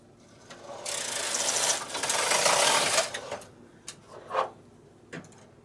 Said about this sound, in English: And I'm going to knit across one row.